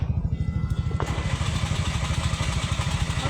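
A motorcycle engine idles close by with a steady, regular low thumping pulse, joined by a brief clatter about a second in.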